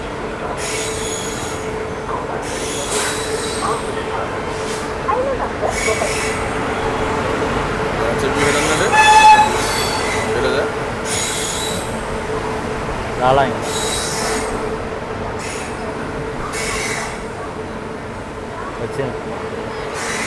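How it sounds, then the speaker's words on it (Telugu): A Ratnachal Express train rolls into Rajahmundry station with steady rumbling and high metallic wheel squeals rising mid-way, while people talk nearby over the continuous noise. "మన ట్రైన్ అయితే రాజమండ్రి వచ్చింది."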